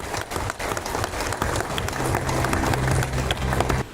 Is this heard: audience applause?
yes